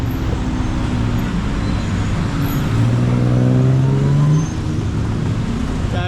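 Street traffic on Tanao Road in Bangkok: a steady roadway roar of cars and buses close by, with one vehicle's engine rising as it accelerates past midway before the din settles back to a constant rumble.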